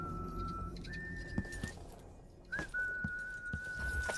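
Birds in the stealth game Dishonored: Death of the Outsider whistle long, steady single notes, one sliding up before holding, set against a low ambient rumble with a few faint knocks.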